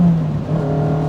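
A Renault Clio 172 Cup's engine drones loudly and steadily, a gruff, close-up engine note holding at fairly constant revs over the short moment.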